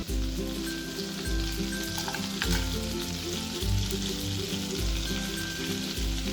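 Whole spices (cinnamon, cardamom, black pepper and cloves) sauté in hot oil with a steady, close crackling sizzle and the soft scrape of stirring throughout.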